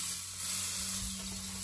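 Steak sizzling on a Weber kettle barbecue grill, a steady close crackling hiss with no talk.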